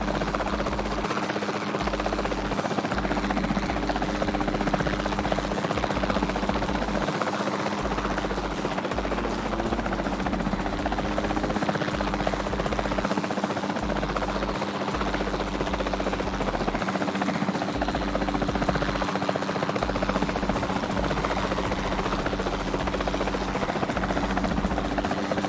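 Helicopter in the video game Jurassic World Evolution 2, a steady loud rotor drone with throbbing low thump that holds continuously throughout, no talk over it.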